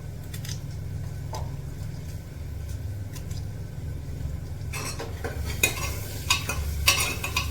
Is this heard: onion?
yes